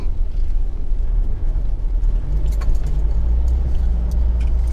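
A 4x4 rolls along a narrow dirt track, its engine a steady low rumble from inside the cabin, with light rattles and jangles over the bumps and no voices.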